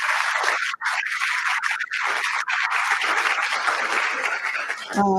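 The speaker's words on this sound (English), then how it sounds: "please help me join a round of applause for our panel today" Audience applause for a panel at a Water Summit event: dense, sustained clapping from a crowd fills the room steadily for several seconds and stops abruptly near the end.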